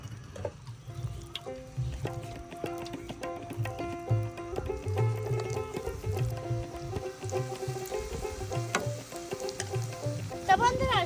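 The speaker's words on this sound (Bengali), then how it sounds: "এবার আমি গরম তেলের মধ্যে দিয়ে দেবো" Semolina batter hisses and sizzles as it drops into hot oil for a raskadam sweet, a steady frying crackle under background music.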